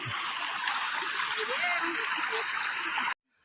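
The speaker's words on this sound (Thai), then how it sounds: "ข้ามน้ำตกก่อน น้ำตกพลานหิน" A waterfall stream pours over rocks in a forest, a steady broadband rush of flowing and splashing water heard close and continuous before cutting off abruptly near the end.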